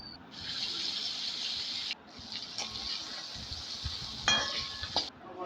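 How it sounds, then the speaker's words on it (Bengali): Pieces of prawn and fish fry in a pan, giving a steady loud sizzle that briefly stops and then resumes, with a few clinks and scrapes near the end. "তারপরে আমি ভেজে নিলাম।"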